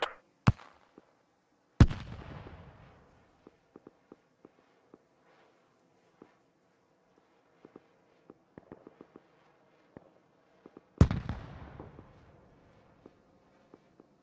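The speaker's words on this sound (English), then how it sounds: "they just grenade us. Rocket or whatever." Grenade or rocket explosions in the Squad combat game: three sharp, loud blasts with ringing, fading tails, the first two close together and the last near the end, with sparse faint clicks and footstep-like taps between them.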